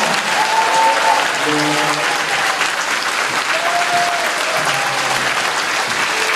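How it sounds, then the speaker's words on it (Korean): A congregation at an evening worship gathering of a Korean church Bible camp with people with disabilities breaks into loud, sustained applause, thick continuous clapping with faint tones of a keyboard or voices sounding underneath. "진심으로 크게 사람한테 치는 것보다 더 크게 영광의 박수를 한번 보내드립니다"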